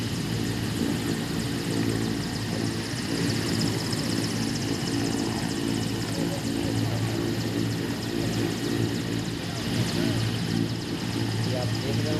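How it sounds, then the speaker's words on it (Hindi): A helicopter sits on a ground at an event in Varanasi with its engine running, a loud continuous rotor-and-turbine drone that stays steady throughout while voices talk over it. "ये हेलीकॉप्टर स्टार्ट है"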